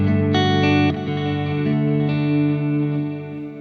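An electric guitar rings out through a pedalboard set to a delay preset and a modulated stereo reverb: a strummed chord and a few struck notes sustain and shimmer, then fade into a long, washy tail.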